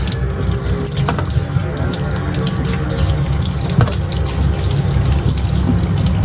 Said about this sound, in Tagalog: Maghuhugas ng luya.